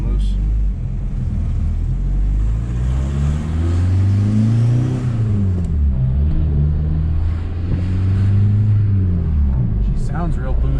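Turbocharged car engine revving while driving, pitch climbing and dropping across several long pulls, steady and loud from inside the car, with a voice talking over it.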